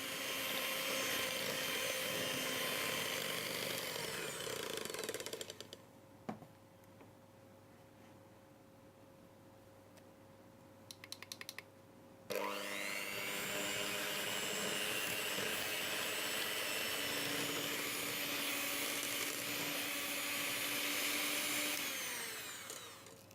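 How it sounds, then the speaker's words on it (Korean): An electric mixer whips room-temperature butter for tiramisu dacquoise, its loud, whining motor running steadily, cutting out for several seconds while faint clinks sound, then starting again and running strongly to the end. "실온에 두었던 버터를 3번에 나누어 넣으며 휘핑을 해주세요"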